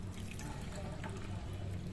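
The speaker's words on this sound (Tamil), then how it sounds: "ஒரு கப் அளவுக்கு தண்ணி சேர்த்துக்கலாம்." Water poured into a bowl of soaked kavuni rice and lentils, a steady liquid splashing and trickling that runs continuously close by, with no talk over it.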